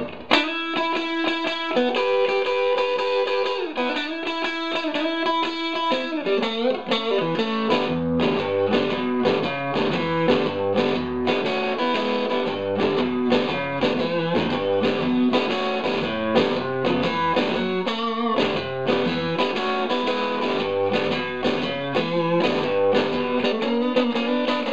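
Electric guitar on the neck pickup through heavily cranked distortion, playing a continuous thick, saturated riff with sustained chords and picked notes for about 25 seconds, steady and loud with no talking.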